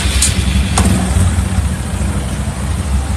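Honda Supra X 125 motorcycle engine idling steadily up close, a low continuous thrum with faint mechanical ticking and a couple of brief clicks, no talking.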